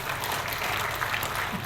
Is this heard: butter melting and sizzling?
no